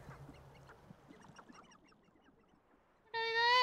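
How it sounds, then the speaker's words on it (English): Birds in the video game Hogwarts Legacy make a loud, harsh honking, duck-like call near the end, after quieter scattered ambient sounds. "What are those? Those birds."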